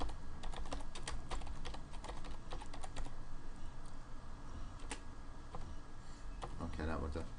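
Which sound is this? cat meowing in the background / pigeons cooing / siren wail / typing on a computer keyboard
typing on a computer keyboard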